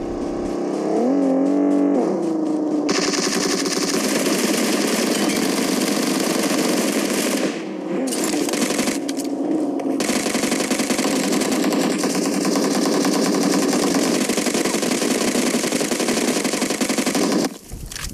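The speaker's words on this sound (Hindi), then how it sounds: "वो एमके से फायरिंग दे रहा है" Rapid MK rifle fire in the BGMI (PUBG) mobile shooter, steady loud bursts over a constant game engine and vehicle roar for the whole stretch, with a brief dip in the middle.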